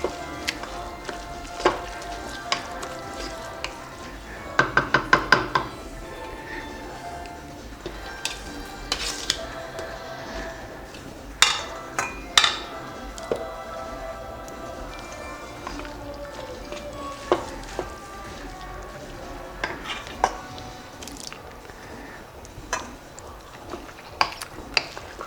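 Rice being stirred and mixed in a cooking pot for Persian eggplant tahchin, with repeated scraping, knocking and clinking of a utensil against the pot in irregular bursts over a steady background, sometimes loud and close.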